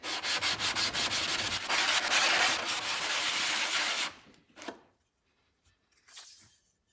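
Sandpaper rasps steadily under the metal sole of a Samson block plane, lubricated with alcohol, in a continuous loud scrubbing stroke for about four seconds, then a couple of brief softer rubs before quiet.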